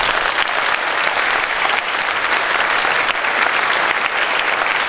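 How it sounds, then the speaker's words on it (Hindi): An audience after a stage play breaks into loud, sustained clapping, dense and even throughout with no voices standing out above it. "अगर अच्छा नाटक लगा है तो एक बार खूब जोर से ताली बजाइए"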